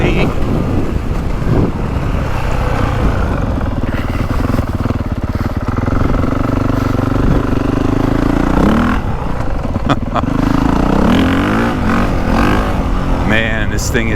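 Honda CRF450R dirt bike from the 2025 model year, ridden in 350 mode and pulling a fourth-gear wheelie, revs hard and steadily throughout, its loud engine roar mixed with wind buffeting and rising pitch sweeps near the end.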